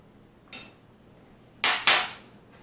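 A metal spoon clinks against a small cup of coffee as sweetener goes in: one light tap, then two sharper clinks close together near the end, in otherwise quiet surroundings.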